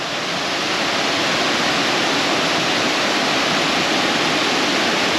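A creek flows beneath a hiking bridge over Poopy Creek, making a steady, loud, broadband rush of water that holds unbroken throughout with no voices.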